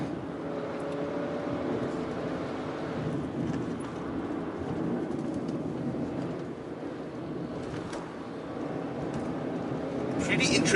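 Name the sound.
Mercedes-Benz E200 engine intake sound under full throttle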